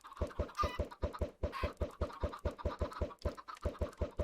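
Minecraft chickens cluck in a fast, even run of soft, repeated clucks, with a couple of brief scratchy noises mixed in, quiet and with no talking.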